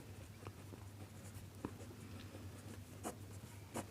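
A pen writes out a math solution on paper, giving faint, quiet scratching strokes with small taps between them, close and soft, with no voice over them.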